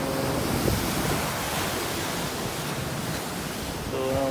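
Strong sea waves pounding during Typhoon Auring near Davao, a dense continuous wash of surf and wind noise, loud and unbroken, with no voices.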